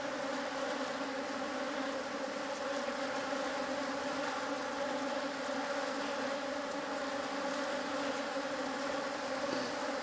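Bees buzzing around a backyard beehive, a steady dense drone of many insects close by, continuous and unbroken with no voices.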